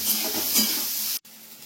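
Sliced bitter gourd frying in oil in a pan, a steady, close hiss of sizzling that cuts off abruptly near the end and then resumes more faintly.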